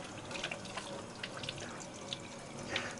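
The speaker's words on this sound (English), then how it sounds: "So some guys don't like to rinse their fish fillets off." Running water from a tap rinses northern pike fish fillets, a soft, steady trickle and splash heard faintly and close, with no talking.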